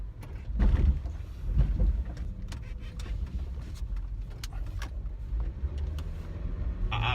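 A car driving at night along Avenida Revolución in Tijuana, its steady low engine and road rumble filling the cabin, with a few light rattles and clicks inside the car.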